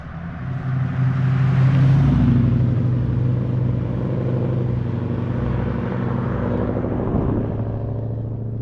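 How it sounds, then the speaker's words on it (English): An old truck, low to the ground, drives past on a stormy day, its engine a loud, rough rumble that swells up close and then holds steady for several seconds. "Oh, look at this old truck."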